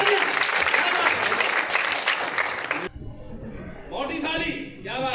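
Loud, dense audience applause greets a poet at a Hindi comedy poetry recital, filling the first three seconds before cutting off abruptly; a voice then speaks.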